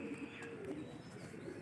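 Pigeons cooing on an old rooftop where the birds are kept, soft low coos over faint background noise, quiet and brief.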